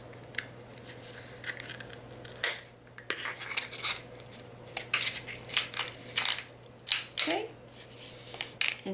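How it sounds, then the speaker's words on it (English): Repeated crisp snipping and crunching of scissors slicing through a thin plastic cup, close by, in irregular bursts with soft handling noise between cuts. "And these cut really easily with the scissors"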